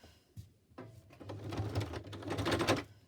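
A sewing machine runs close by in short stop-start bursts, pausing and restarting as it back stitches, with uneven mechanical clatter.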